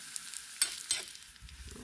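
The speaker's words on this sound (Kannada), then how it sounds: "ಬೆಳ್ಳುಳ್ಳಿ ರೋಸ್ಟ್ ಆಗುವಾಗ ಒಣ ಒಣಮೆಣಸು ಹಾಕೊಂಡಿದ್ದೆ ಎರಡು ತುಂಡು ಮಾಡಿ ಹಾಕೊಂಡಿದ್ದೆ ಅದಕ್ಕೆ ಒಗ್ಗರಣೆಗೆ" Garlic and two pieces of broken dry red chilli roasting in tempering oil for a salted boiled raw mango chutney. The sizzle stays fairly soft, with stirring clinks and a few sharper scrapes, and no voice over it.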